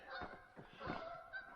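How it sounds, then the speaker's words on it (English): Wild geese honk in a loose run of calls overhead on a frosty, clear morning at a camp, fairly faint and distant against quiet outdoor air. "We got the geese flying by"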